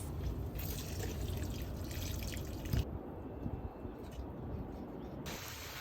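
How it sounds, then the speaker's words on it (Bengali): Water is poured onto potted plants, a close, continuous splash and trickle with a few louder drips and a brief pause partway through. "ভাবলাম আজকে একটু পানি দিব তো গাছে"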